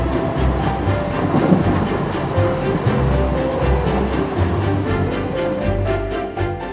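A high-speed train bound for Florence, Italy, heard from inside the carriage as a loud, steady rumbling roar with low rhythmic thumps from the wheels on the track, continuous throughout.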